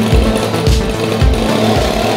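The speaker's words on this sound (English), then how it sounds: "this machine has the ability to create thrust using the power of wind, aka a leaf blower" A gas leaf blower powering a homemade jet longboard runs steadily up close, loud, with a rough, rhythmic engine pulse and a broad rushing whoosh of air.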